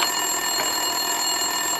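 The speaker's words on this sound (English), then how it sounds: "Winterson's phone was ringing." An office desk telephone rings in Max Payne 2, a continuous electronic trill that stays steady and fairly loud for just under two seconds, with no voices over it.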